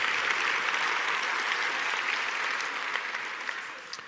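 A lecture audience breaks into sustained applause, a smooth, dense roar of many clapping hands at moderate level that tapers off gently at the close.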